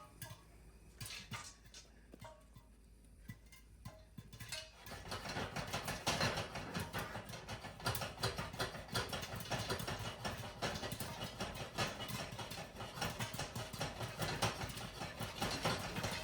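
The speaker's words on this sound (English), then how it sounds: "Oh, now it's starting to pop." Homemade popcorn popping in a pot shaken over a hot stove-top flame: after a few quiet seconds of clinking, dense rapid pops burst out continuously alongside the rattle and scrape of the shaken pot, close and busy.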